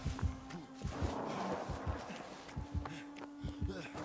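A looming heartbeat from the video game Dead by Daylight thumps in a steady, heavy double rhythm with a low hum beneath it, and a player's voice is faintly present.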